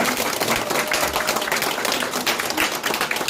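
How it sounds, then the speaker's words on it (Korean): A crowd gives sustained, dense applause at the opening of a campaign office for a district head candidate in Incheon's Jung-gu, many hands clapping steadily and loudly for the whole clip. "큰 박수 부탁드립니다."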